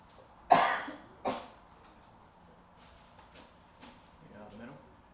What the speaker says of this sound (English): Is that a sneeze, or are you getting sick behind me? It's a cough.